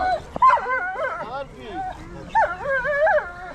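A hunting dog at a dog show yelps and whines in short high-pitched bursts, close by, with a person speaking over it.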